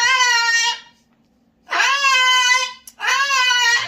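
Pet cockatoo screaming indoors, three loud, harsh, drawn-out shrieks with short gaps, close and piercing.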